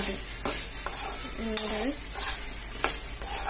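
Spices being stirred in a pan as they fry gently over very low heat, with a soft steady sizzle and repeated scrapes of a spoon against the pan, close by and without talk.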